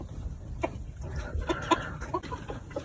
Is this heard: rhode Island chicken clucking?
yes